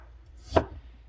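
A single crisp knife chop through raw garlic on a cutting board, one short close thud standing out against near silence.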